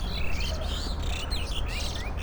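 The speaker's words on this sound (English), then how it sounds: "The birds are singing around me." Birds sing outdoors with repeated short whistled chirps and trills, faint and some distance off, over a low steady background hum.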